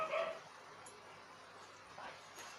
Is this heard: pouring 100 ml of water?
no